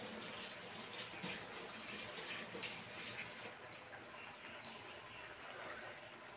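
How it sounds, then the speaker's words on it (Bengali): Hands are rinsed under a running kitchen tap after cleaning fish, with a steady close splash of water pouring throughout and no pauses. "হাতটা ধুয়ে নিই।"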